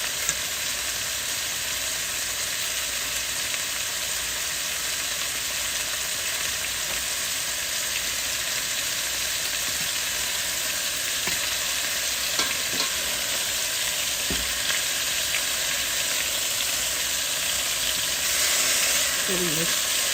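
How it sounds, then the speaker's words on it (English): Marinated lamb pieces sear in a pan for a lamb karahi, holding a loud, unbroken hiss of frying fat with a few faint scrapes and taps running underneath. "When they're seared, I'm going to set them back in the pan they were marinated in."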